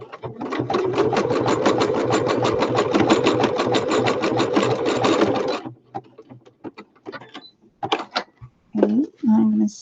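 A domestic sewing machine runs a zigzag stitch in one steady, loud, rapid mechanical run for several seconds, then stops, followed by scattered handling clicks and brief bits of a nearby voice.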